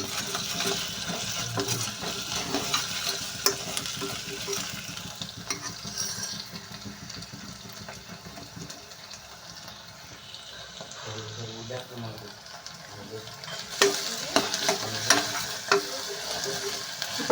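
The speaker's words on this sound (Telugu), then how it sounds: "ఉల్లిపల్లి అనేది అయితే ఫ్రై అవుతున్నాయి కదండి ఇప్పుడు దీంట్లో అయితే అల్లం వెల్లుల్లి పేస్ట్ అయితే వేస్తున్నాను" Onions frying in a pan as ginger garlic paste is added, giving a continuous sizzle with scraping stirs and occasional clatter, while a person talks over it.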